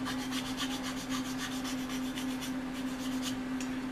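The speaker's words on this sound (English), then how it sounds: "leave this video here with me just sanding away, you know, on the model" Steady, continuous rasping of sanding on a plastic F4U-1D aircraft model, strokes running back and forth without pause, close and fairly even in loudness, with a constant low hum underneath.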